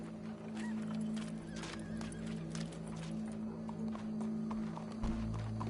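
A horse walks along with a steady, gentle clip-clop of hooves, fairly faint against a low hum, and no one speaks.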